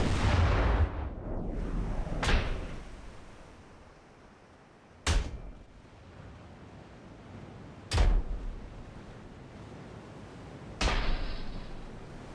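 Naval artillery fire from Ultimate Admiral: Dreadnoughts, heard as four sharp, widely spaced booming blasts with decaying rumbles between them, fairly distant and moderately loud.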